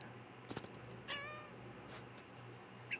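A cat meows in the video game What Remains of Edith Finch, with a couple of short meows and a drawn-out wavering call, faint over a low steady ambient hum.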